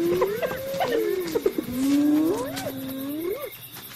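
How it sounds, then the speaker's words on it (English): A leopard growls at a mob, a loud rising and falling snarling growl with several surges over a few seconds, close and alone without talk. "Her growl is stronger than she is."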